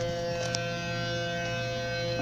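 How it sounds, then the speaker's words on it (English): A rotating alerter civil defense siren under test gives a steady, sustained wail that holds at an even level throughout, with no talk over it. "Watch when the siren comes around."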